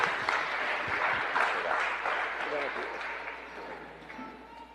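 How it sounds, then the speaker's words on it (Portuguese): Church congregation clapping for the Lord at a conference night, a fairly close burst of applause mixed with scattered voices and a spoken exclamation, gradually tapering off. "Você pode aplaudir o Senhor Jesus?"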